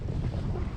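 Strong wind while sailing a small sailboat, a continuous low buffeting roar of wind across the microphone with water movement beneath, no voices.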